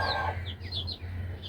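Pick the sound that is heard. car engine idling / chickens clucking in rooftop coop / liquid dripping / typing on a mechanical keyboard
chickens clucking in rooftop coop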